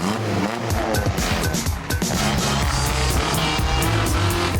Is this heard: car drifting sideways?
yes